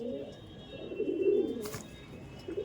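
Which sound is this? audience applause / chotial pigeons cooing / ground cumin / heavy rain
chotial pigeons cooing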